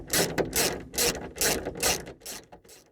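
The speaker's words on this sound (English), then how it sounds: "We now need to remove the 3 bolts that hold the motor in place." Ratchet undoing a bolt on a Nissan Micra K11 rear wiper motor: about six close, crisp bursts of rapid clicking in a steady back-and-forth rhythm, heard alone without talk.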